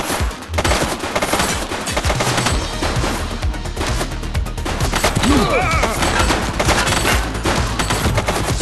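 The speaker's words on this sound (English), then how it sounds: "She's shooting!" Gunfire in The Precincts video game: loud, dense bursts of automatic shots rattle continuously for the whole stretch, with no pauses between volleys.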